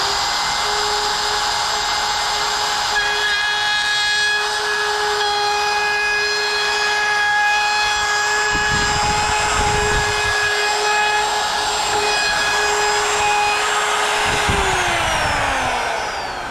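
A router bit spins at full speed in a Festool Conturo edge-bander setup, trimming the edge banding lip on a board: a loud, steady high whine with harmonic tones holds throughout, dropping in pitch near the end as the bit winds down.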